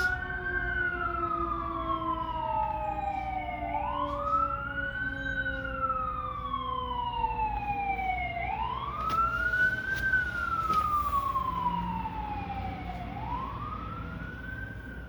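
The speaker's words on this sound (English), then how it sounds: "Fire trucks and ambulances." Wailing fire truck and ambulance sirens rise and fall in slow repeating sweeps, loud and fairly near, with a second siren layered above and traffic rumble underneath.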